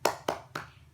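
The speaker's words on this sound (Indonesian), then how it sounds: "Yuk, kita tepuk semangat dulu ya." Three sharp, close hand claps in even rhythm, a classroom cheer clap led by a teacher, each crisp and clear with quiet gaps between.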